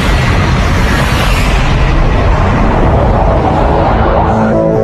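A sustained, roaring blast from diesel hydrocarbons igniting in a city sewer in Guadalajara, dense and rumbling throughout with no pause and no voices.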